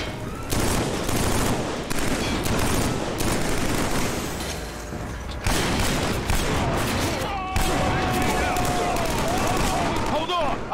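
Sustained automatic gunfire from a weapon in the Killzone 3 video game, dense loud bursts running almost continuously with brief pauses, mixed with game sound effects and a voice talking over it.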